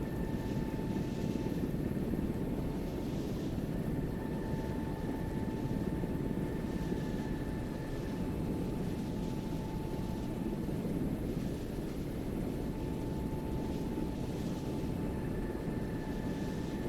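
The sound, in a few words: helicopter lifting off and departing in a video game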